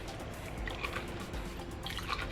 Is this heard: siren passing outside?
no